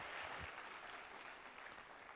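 An audience at a stand-up comedy show claps in a steady, continuous wash of applause from start to finish.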